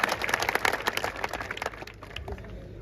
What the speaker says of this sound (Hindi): दोनों भाइयों के लिए जोरदार तालियां